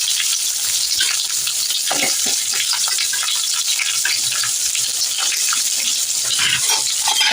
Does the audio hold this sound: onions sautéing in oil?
yes